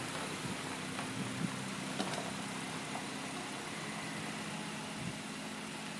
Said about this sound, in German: Uwes Insel Mercedes fährt vor.